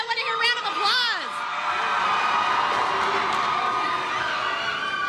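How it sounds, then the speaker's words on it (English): Crowd at a school prep rally cheering and whooping, a few high voices shouting at first, then a steady roar of cheers and clapping that holds throughout. "Give it up for Amelia. I want to hear a round of applause."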